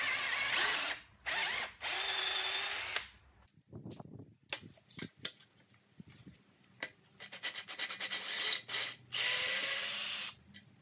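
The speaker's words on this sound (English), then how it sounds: "I had to drill out those dowel plugs very accurately so I could reuse the holes" A handheld drill bores out wooden dowel plugs from a glued coffee table frame, loud whining bursts of several seconds, then gritty grinding and rasping as the bit chews through the wood, close up with short pauses.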